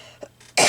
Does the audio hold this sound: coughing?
yes